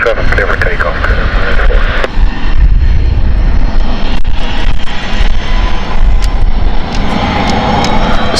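A Cessna 680 business jet taking off from runway 27 at London City Airport, a broad steady engine roar running throughout, with radio chatter and talk over it.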